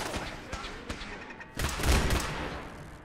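Gunfire in Fallout 4, scattered sharp shots early on, then a louder burst of rapid fire and booming impacts, with a voice briefly heard in the mix.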